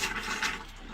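Air sputtering out of an opened faucet as an RV water line is purged during winterization, a loud, steady hissing gush of water and air lasting about a second with no talk.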